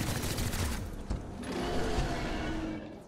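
Rapid bursts of gunfire with mechanical clatter and a booming impact from the tactical video game XCOM: Chimera Squad, loud and dense at first before easing into a rumbling tail.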